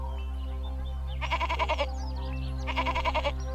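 A goat being led along bleats in two short wavering bursts over a steady low background hum.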